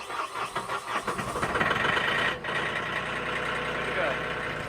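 A Mahindra 1635 tractor diesel engine cold-starts under cover during a nor'easter. It cranks in quick pulses, then catches and settles into a steady, fairly close idle rumble.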